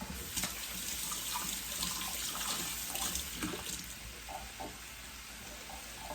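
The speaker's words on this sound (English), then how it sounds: "I'm going to wash my hands again." Running tap water splashing steadily into a kitchen sink as hands are washed, a soft hissing stream with faint clatters, fairly quiet and with no one talking.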